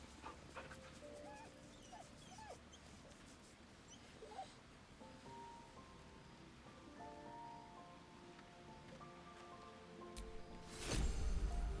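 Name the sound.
dog whimpering in the video game Baldur's Gate 3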